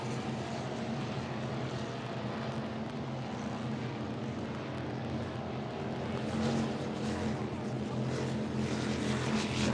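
A loud, steady engine roar from an offshore racing powerboat with tractor pipes during a race, a continuous throaty drone with a deep rumble that holds throughout, no talking.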